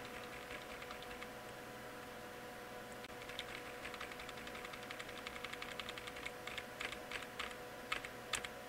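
Keys clatter on a computer keyboard during a Slackware Linux install on a 2005 computer, quiet, irregular taps that start sparse and grow into brisk bursts over a steady low electrical hum.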